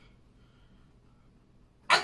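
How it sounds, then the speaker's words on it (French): A single sudden sneeze bursts out at the very end after near silence, loud and close. "Je vais éternuer."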